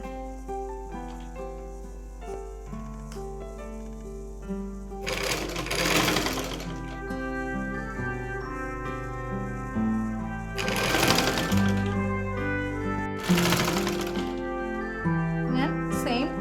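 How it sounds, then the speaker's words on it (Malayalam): A sewing machine stitches piping onto a fabric tulip sleeve in three loud, rapid bursts of rattling stitches over a continuous low motor hum, with quieter handling between runs. "ഇനി നമുക്കൊരു 1/4 ഇഞ്ചിൽ അടിക്കാം"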